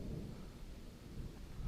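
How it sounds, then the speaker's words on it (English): Distant thunder rolls as a low, steady rumble across a mountain ridge near Little Rock Knob on a backpacking trail, with no voices over it. "And some thunder cracking in the distance"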